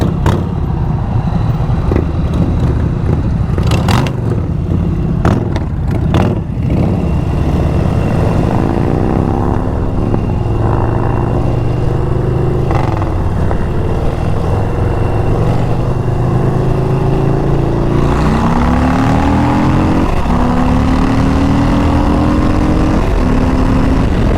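2022 Harley-Davidson Low Rider ST motorcycle being ridden, its loud, continuous V-twin engine rumble rising and falling through gear changes, with steady wind noise and no talking.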